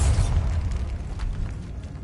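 A Bombarda explosion spell goes off in Hogwarts Legacy inside a decayed catacomb: a low, muffled boom that hits at once and then rumbles off over about two seconds, with no voices.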